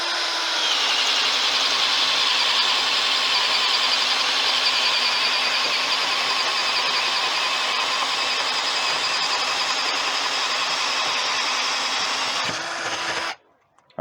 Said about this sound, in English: We're in speed 1, and this is the 1 inch Spade bit.